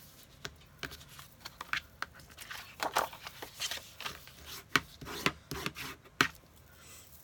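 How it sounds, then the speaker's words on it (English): A folded paper card base is burnished with a tool, giving a series of quiet, close scraping and rubbing strokes in an irregular rhythm. "I'm just going to burnish the fold."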